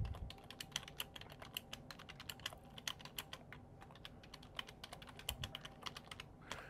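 Fingers type steadily on a computer keyboard, a fast run of close, crisp key clicks with uneven rhythm and a few heavier strikes, alone in a quiet room.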